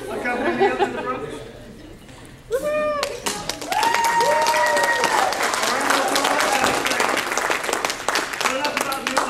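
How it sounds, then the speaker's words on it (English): Audience applause and cheering for a volunteer from the crowd at a live magic show, a steady wash of many hands clapping with chatter and voices mixed in, swelling after a brief lull. "let's applause for her."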